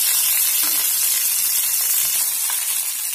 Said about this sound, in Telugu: ఆయిల్ మరిగిన తర్వాత బెండకాయలు కట్ చేసుకున్న బెండకాయలు వేసేద్దామండి.